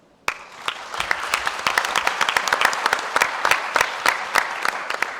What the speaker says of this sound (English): give a really strong round of applause to the 6 country presentations that were absolutely superb